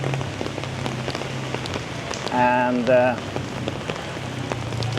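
Steady patter of rain falling on a city street in Bonifacio Global City, Philippines, with a brief vehicle horn or tonal hum sounding briefly in the middle.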